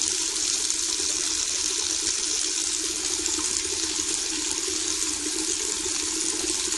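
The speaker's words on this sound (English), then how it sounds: "We are going to now start adding in the rest of our water here." Water pours steadily into a batch of lavender lemon mead, a continuous close rushing flow that stays even and fairly loud throughout, with no voices.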